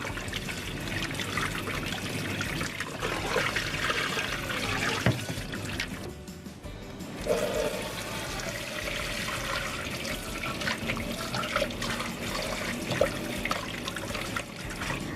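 A tap runs steadily as wheat dough is rinsed to wash out the starch and leave gluten, with a continuous trickle and pour of water into a sink and faint handling noise.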